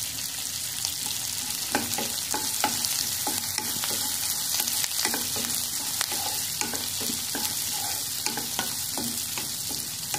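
Curry leaves frying in hot oil in a pan for rice rava upma, a steady loud sizzle with a spoon scraping and stirring in repeated irregular strokes, close and alone.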